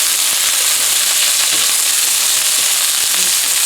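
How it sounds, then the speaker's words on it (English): Potatoes sizzle in a heated cast iron pan with a steady, loud, crackling hiss that continues unbroken throughout. "Start to sizzle."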